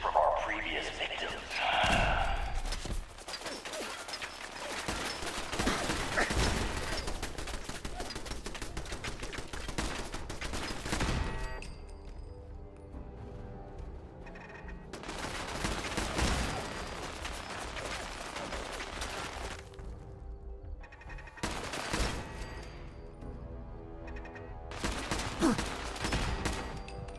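A Mark 7 turret in Fallout 4 fires repeated bursts of automatic gunfire, loud rattling volleys separated by quieter pauses, with some speech in between.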